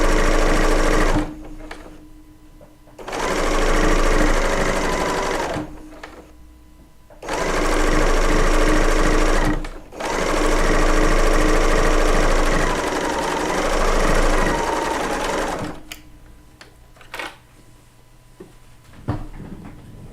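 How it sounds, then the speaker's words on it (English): A top-of-the-line Bernina sewing machine stitches a faux sashiko stitch in several loud, close bursts of rapid mechanical whirring and clatter, separated by short pauses with faint handling noises. "There's a feature on the top of the line Bernina sewing machines that allows me to create a faux sashiko stitch."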